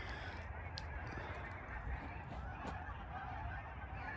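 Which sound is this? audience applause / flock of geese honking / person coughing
flock of geese honking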